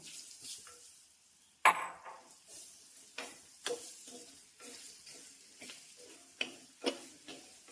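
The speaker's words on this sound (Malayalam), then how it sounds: "നമ്മൾ ഈ മാങ്ങ ഇട്ട് കൊടുത്ത് വഴറ്റ് വഴണം" Raw mango sautéing in a pan for a mango rasam, with soft sizzling and intermittent sharp taps and scrapes of a spoon stirring against the pan, close and fairly quiet, with no voice.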